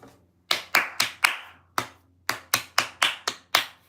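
A few sharp hand claps, four quickly in a row, then one alone, then a run of six more, close and crisp over a quiet low hum, with no voices.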